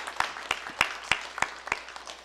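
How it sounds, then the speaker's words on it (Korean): A small church congregation claps during a Sunday service, sparse separate hand claps in a loose rhythm, moderately faint against a quiet room. "우리 꽃꽂이부에서 한번 박수하겠습니다."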